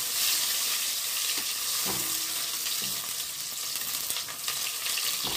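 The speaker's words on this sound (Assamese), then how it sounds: "কেৰাহী গৰম হৈ যোৱাৰ লগে লগে মই কাটি থোৱা পিঁয়াজখিনি মই ইয়াতে মিলাই দিম।" Onions hitting hot mustard oil in a wok give a steady, close sizzling hiss that holds at an even loudness throughout, with no voices.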